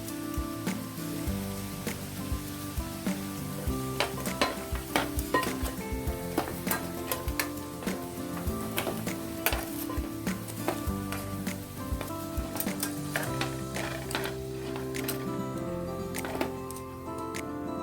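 Plantain slices fry in hot oil, giving a steady, dense sizzle with crackling pops throughout. No one speaks.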